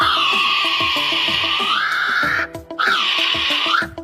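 A kiwi calling: two long, shrill whistling cries that swell and rise sharply at their ends, separated by a brief gap, loud and close over a steady rhythmic musical backing.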